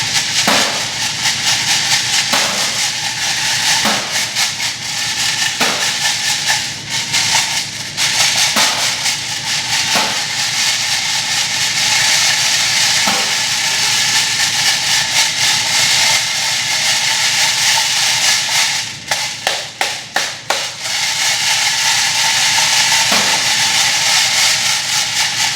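A box sieve shaking coarse aggregate, giving a loud, steady gritty rattle of stones over a screen that pauses briefly near the end, heard close without talk.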